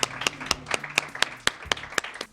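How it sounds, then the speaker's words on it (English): Audience applause welcoming Alfred State College at a TEAM program event: short, steady rhythmic clapping that sounds like a small group, moderately close. "Can we please give them a round of applause?"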